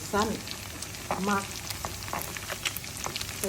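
Pork belly frying in hot oil gives a steady close sizzle with crackling pops, while a voice speaks in short bursts over it.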